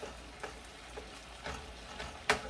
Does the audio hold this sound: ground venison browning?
yes